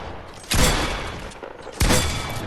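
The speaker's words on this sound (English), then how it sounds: "for speed and damage for like critical shots, the tac is the way to go" Two sharp, loud blasts from a tactical shotgun in Fortnite Battle Royale, roughly a second apart, each with a short booming tail and no voices.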